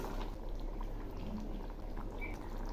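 Koi fish curry with potato and pointed gourd simmering in a pan, a faint steady bubbling with light stirring underneath, no voices.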